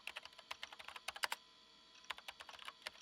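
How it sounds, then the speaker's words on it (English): Fingers rapidly tapping a computer keyboard in the visual novel Chaos;Head Noah, with crisp, irregular keystroke clicks in two bursts separated by a short pause, quiet and close. "The only sound in the room was that of fingers on keys."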